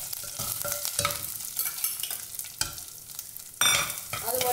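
Chopped small onions, crushed ginger and garlic sauté in a pan for Kerala-style vaala fish curry, with a soft continuous sizzle and close, irregular scraping strokes from stirring that grow louder near the end.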